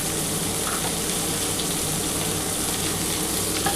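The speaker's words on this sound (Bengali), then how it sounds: "এবার খুব ভালো করে একটু নাড়াচাড়া করে নিচ্ছি।" A potato, pointed gourd and chickpea curry being stirred in a pan, with a steady close sizzle and frying hiss running continuously, and no voices over it.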